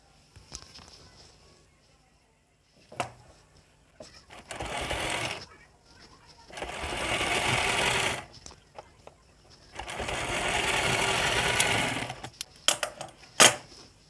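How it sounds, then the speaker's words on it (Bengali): Sewing machine stitching a fabric strip for hooks and hook loops, running in several sustained bursts of steady mechanical whirring with short pauses between, close and fairly loud, with occasional clicks and handling noises. "এইভাবে আমাদেরকে উপরে একটা সেলাই দিয়ে দিতে হবে"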